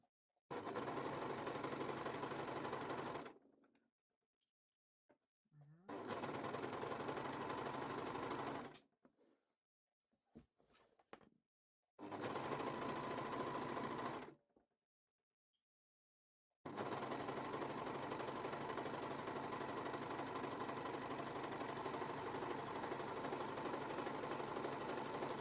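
Sewing machine stitching wax print fabric while sewing a boubou, running in four loud sustained bursts with short silent pauses between, the last run long and steady, no voices.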